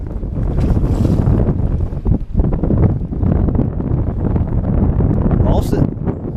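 Strong gusting wind buffets the microphone on a fishing boat on Lake Norman, a loud, rough low roar that rises and dips, with voices heard under the noise.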